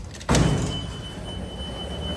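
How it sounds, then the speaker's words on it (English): A Tejas traction freight elevator door at a campus drama building slides open with a sudden loud rumbling onset, then a sustained mechanical rolling that slowly eases off, heard close up. "There goes that door right there."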